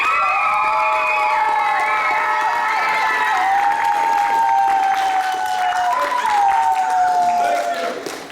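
An audience at a musical stage show applauds and cheers, with loud sustained clapping, whoops and high shouts that fill the room before fading at the end.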